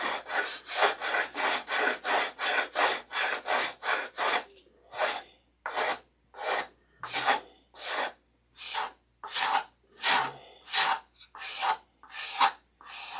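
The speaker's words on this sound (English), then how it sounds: "I'm not sanding with the grain, I'm sanding cross grain" Wood is sanded cross grain using a paint stick as a sanding block, producing close, rhythmic rasping strokes, quick and evenly spaced at first, then slower with short pauses between.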